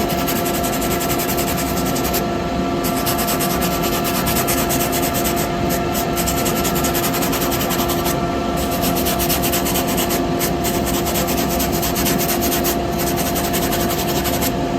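Steady, continuous abrasive rubbing of sandpaper against wet wood spinning on a lathe, with a constant machine hum underneath, close and fairly loud throughout.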